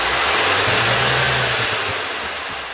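A Ford Cortina Mk3 engine revs high and steady, a loud sustained roar close by with slight pitch wavering that eases off toward the end.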